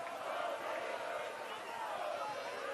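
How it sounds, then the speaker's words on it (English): Stadium crowd at a college football game, Syracuse vs. Davis, booing and jeering the referee over a penalty call, a dense sustained roar of many voices filling the whole stretch without a break. "This crowd's letting the ref hear it."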